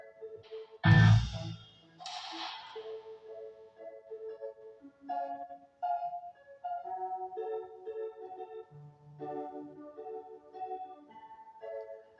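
A single sharp gunshot cracks near the start, loud and booming, followed by an upright piano tune that carries on alone.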